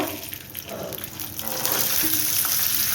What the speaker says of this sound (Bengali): তেলের মধ্যে একটু নড়াচড়া করে নেবো এবার